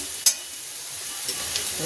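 Potatoes frying in a pan, a soft continuous sizzle with one sharp utensil clink near the start and a few light stirring scrapes afterward.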